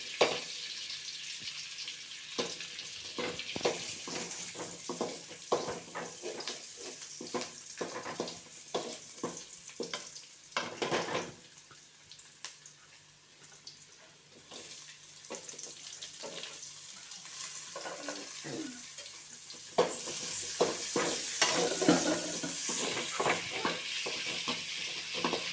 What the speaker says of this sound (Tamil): பூண்டை நல்லா வதக்கிட்டு பொன்னிறமாயிட்டா இன்னும் கொஞ்சம் நல்லா வதங்கட்டும்.